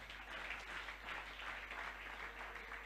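Church congregation applauding together, a dense, steady wash of clapping filling the whole stretch with no pauses, moderately loud and close.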